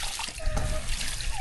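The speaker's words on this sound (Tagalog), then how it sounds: "Hindi, ito po, hugasan pa natin. Lamig pa ng tubig." Cold running water splashes and trickles while freshly harvested parsley is washed, a close, loud wash of water with brief drips and no talking.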